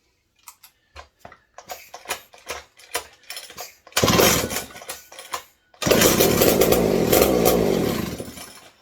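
Short ticking bursts give way to a raw, loud two-stroke engine roar from a McCulloch 740 chainsaw running with no exhaust fitted, cutting out and restarting unevenly, harsh and unmuffled, close by.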